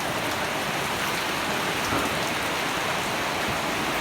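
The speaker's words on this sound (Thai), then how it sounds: "ฝนตกอีกแล้ว" Steady rain pouring down, a close, uniform roaring hiss of drops on surfaces with no pauses and no voices.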